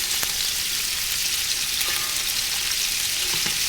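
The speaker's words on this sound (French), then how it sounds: "je vais venir faire saisir la viande. Donc c'est de l'agneau. Et je vais rajouter mon oignon" Pieces of lamb and onion sear in a hot pan, giving a continuous close hiss of frying with faint crackles and an occasional stir.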